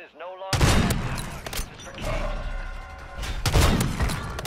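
Gunfire in the Call of Duty video game: loud bursts of rapid shots erupt after a brief quiet start, sustained through the middle and surging again near the end, with a voice faintly present.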